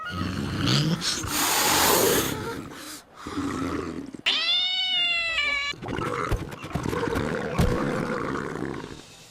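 A cat among a crowd of cats lets out a drawn, wavering meow near the middle, set against a dense, noisy backdrop with other sounds before and after.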